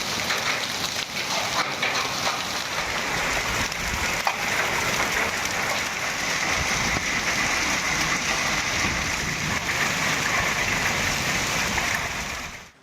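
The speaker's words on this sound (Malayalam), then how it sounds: "വെല്ലൂരിൽ ആലിപ്പഴ വർഷത്തോടെ ശക്തമായ മഴ പെയ്തു" Heavy rain with hail pounds down in Vellore during a hot spell, a dense, steady roar of falling water and hard patter that holds loud and unbroken throughout, with no voices.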